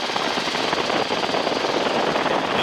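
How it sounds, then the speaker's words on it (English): A helicopter descends with reduced collective and throttle, its engine and rotor making a steady, dense roar with rapid blade chop heard from inside the cabin, loud and continuous. "I'm going to reduce the collective and the throttle"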